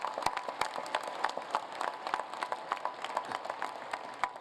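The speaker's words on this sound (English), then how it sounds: "How about a round of applause for Dean Pines," Applause at an engineering school's fall commencement ceremony, scattered claps ringing out in a quiet, irregular rhythm, soft and somewhat distant in a large hall.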